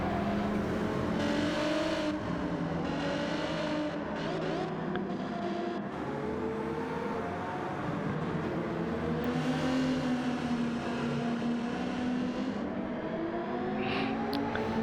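Race car engine in Gran Turismo 7 at Autopolis, revving up through the gears and dropping off under braking, with steady close engine whine and occasional tire squeal, alone with no talk.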